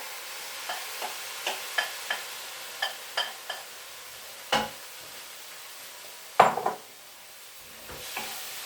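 Marinated vegetables are stir-fried in a wok, with a string of light scraping and tossing clicks over a faint sizzle and a couple of louder clanks of utensil against metal. No talking.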